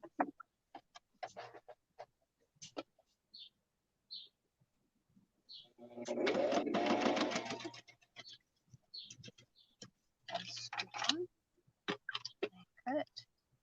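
A sewing machine stitching paper quilt pieces, with a burst of rapid mechanical whirring in the middle and shorter runs later, between scattered clicks and handling noises, and someone talking throughout.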